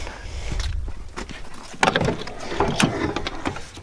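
A boat engine with a lift pump that is not running sputters and misses, giving an uneven rumble with irregular surges and knocks, close by.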